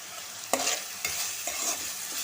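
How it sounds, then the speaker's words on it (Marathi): Salted onion sautéing in a pan for a wild vine vegetable dish, a soft steady sizzle broken by a few scraping stirs of the spatula, close and moderately quiet with no talk. "तर हा कांदा व्यवस्थित असा परतून घ्यायचा"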